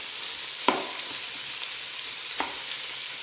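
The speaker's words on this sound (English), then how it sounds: "stir that around, let it get brown a little bit" Cooking fat renders and sizzles in a pot for Cajun red beans and rice: a steady, close, hissing fry with two sharp clicks of a spoon stirring against the pot.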